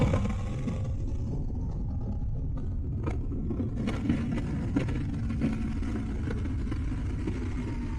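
Aprilia Tuono V4 Factory motorcycle engine at low RPM through slow corners, a steady low rumble with faint wind noise and occasional brief clicks, no sharp revving.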